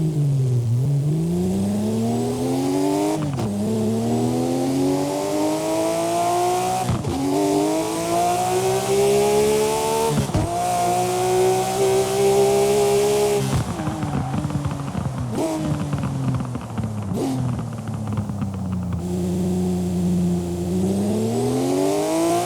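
A Singer-reimagined Porsche 911 in the Forza racing game revs hard through repeated gear changes, the engine note climbing steadily and dropping sharply at each shift, loud and continuous with a brief tire squeal, no voices.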